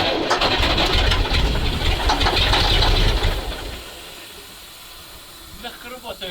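Engine of an old MAZ truck, stored for fifteen years, catching and running loudly with hissing and rumble for about three seconds, then settling to a quieter, softer idle with faint voices near the end.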